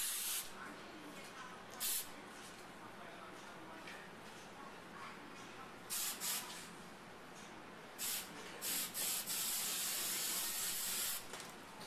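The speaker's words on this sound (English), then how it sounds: "last step, hairspray" Hairspray is sprayed onto hair while styling, giving several short hissing bursts in a quiet room, each lasting about a second and spaced a few seconds apart.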